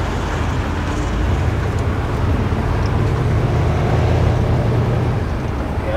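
A classic car engine idles steadily and swells slightly as the throttle is nudged, a low continuous rumble heard up close with no talk.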